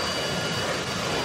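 In a video game, a helicopter engine roars as a steady, dense, broadband whine and rush at constant loudness, with no talking over it.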